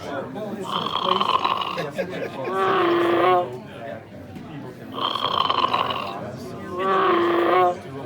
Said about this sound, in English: I think the snoring is adorable